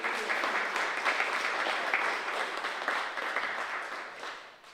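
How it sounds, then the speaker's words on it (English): Applause rises from the audience at a scholarship signing ceremony, a brisk, even patter of many hands throughout, fading gently toward the close. "I want to give a round of applause to those that helped us."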